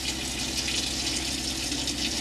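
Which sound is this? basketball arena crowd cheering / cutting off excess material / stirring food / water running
water running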